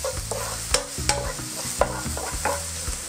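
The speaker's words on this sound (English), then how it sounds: "oil a little bit hot, and then we put the garlic" Garlic fries in hot oil in a pan as a utensil stirs and scrapes it, giving a rhythmic series of clacks and scrapes over a soft sizzle, with no talking.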